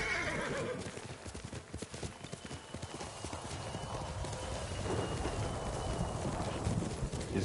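A horse in Ghost of Tsushima gallops with fast, close hoof clip-clops, then gives a neigh over the steady rhythm, with faint talk mixed in.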